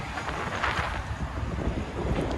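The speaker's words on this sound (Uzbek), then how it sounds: "Ozgina shamol bo'layapti bu yerda." Wind gusts buffet the microphone with a low, rumbling roar that rises and falls throughout.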